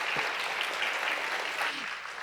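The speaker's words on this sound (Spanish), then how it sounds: "brindémosle un aplauso a Pedro" An audience at a Huntington's disease conference gives applause for the speaker Pedro, a steady wash of many hands clapping together at a moderate, even level throughout.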